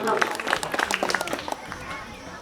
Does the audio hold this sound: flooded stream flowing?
no